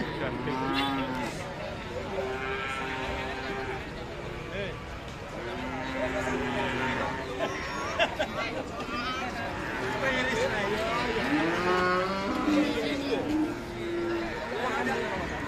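A strong-tempered cow for sale moos repeatedly, long deep lowing calls recurring throughout, close and loud, amid outdoor crowd chatter and talking.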